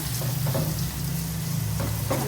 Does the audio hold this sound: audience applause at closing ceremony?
no